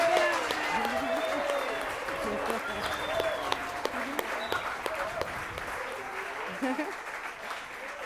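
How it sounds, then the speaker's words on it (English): Applause for children at an Aboriginal and Islander Children's Day launch, a broad steady clapping from the audience that runs the whole time, with some voices and cheers mixed in. "Another big round of applause for all the kids."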